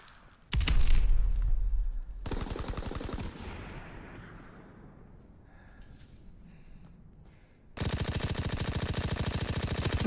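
An enemy aircraft's strafing run in Call of Duty: WWII unleashes loud rapid gunfire in close bursts: a heavy opening volley, a second burst, a fading lull, then a sustained hammering stream to the end.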